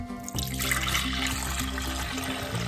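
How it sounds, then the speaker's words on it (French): Lukewarm water pours into the jug of a soup blender for cleaning, a close, continuous gushing splash that starts abruptly and runs without a break. "On soulève le couvercle, on met de l'eau tiède,"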